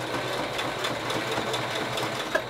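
A sewing machine stitches a fabric protective face mask with a pipe-cleaner nose piece, giving a close, steady whirring hum with rapid rhythmic needle ticks and a small click near the end, with no talking.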